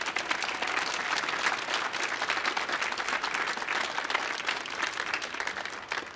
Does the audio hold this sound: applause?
yes